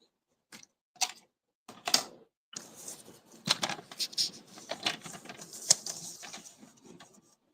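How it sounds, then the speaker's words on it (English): A paper trimmer cuts three paper panels, each 1.5 inches wide: a few sharp ticks and clicks, then a steady run of close scraping and clicking slides as the blade passes along the paper, with no speech. "So I'll cut 3 panels of this."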